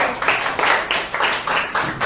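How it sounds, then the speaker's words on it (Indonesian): A class of students claps for a classmate, Benazir, in a school lesson, the group clapping in a steady rhythm of repeated bursts about twice a second, close and fairly loud. "Oke, tepuk tangan buat Benazir."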